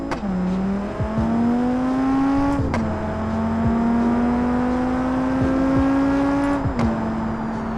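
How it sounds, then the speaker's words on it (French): An Audi RS2 engine in the BeamNG Drive video game starts and settles into a steady, loud, continuous hum with harmonic tones, shifting slightly in pitch as it idles and revs, with a few sharp clicks along the way and no talking. "Du coup démarrage du moteur et c'est parti."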